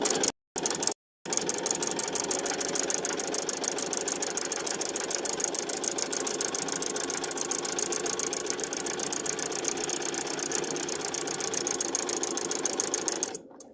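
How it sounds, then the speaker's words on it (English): A sewing machine stitches fabric along a seam, its fast, steady mechanical chatter running loud and continuous after two brief pauses at the start, with no talking. "we are going to sew all the way up to this edge right here"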